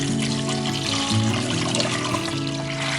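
Water pours steadily into a pot of leftover rice, a continuous trickling splash with a low hum running underneath, no talking.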